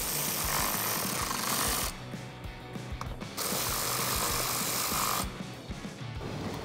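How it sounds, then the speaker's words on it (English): Bolts on a steel DV8 Offroad winch-capable front bumper for a Toyota Tacoma are driven in with a power tool and a 10 millimeter socket, heard as close, loud rattling bursts separated by brief pauses, with no talking. "You just keep tightening them up with the 10 millimeter socket."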